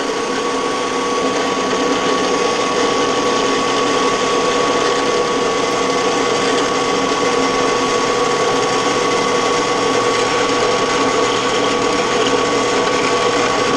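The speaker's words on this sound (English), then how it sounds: "But we'll go ahead and get this drilled out." A slimline pen blank being drilled out on a lathe, a loud continuous mechanical whine and hum that holds steady throughout without a break.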